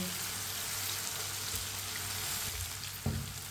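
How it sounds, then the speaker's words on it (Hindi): Chopped tomatoes sizzle and fry in a hot pan for a white chana curry, a steady close crackling hiss that runs without a break, with a faint stir or clatter near the end and no talk. "टमाटर को भी 2 मिनट के लिए पका लेंगे। 2 मिनट पकाने से टमाटर का कच्चापन भी ख़त्म हो जाएगा"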